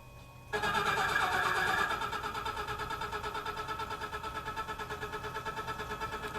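A Tormach PCNC 1100 CNC mill cuts a 3/8 inch slot with a small 1/8 inch cutter: the spindle and cutting noise jumps up loudly, then settles into a steady pulsing machining drone.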